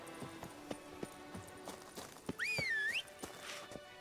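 Hooves of Roach, the horse in The Witcher 3, clip-clop in a steady trotting rhythm, with a sharp whistle-like call rising over them midway through.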